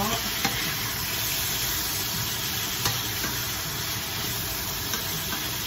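Shrimp for a creamy shrimp carbonara sizzle in a pan, a loud, even frying hiss running unbroken with a few faint clicks of stirring, close by and without speech.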